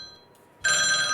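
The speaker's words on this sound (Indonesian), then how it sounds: "mungkin kita angkat telepon dulu kali ya Pak ya" A telephone bell starts ringing abruptly after a brief quiet moment, loud and continuous, heard alone, during a fishing talk program.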